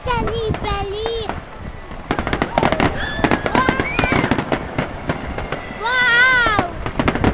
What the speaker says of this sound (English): I thought you might like to see the fireworks.